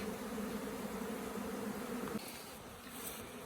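A dense, continuous hum of many bees buzzing together, close and steady, with a slight drop in intensity partway through.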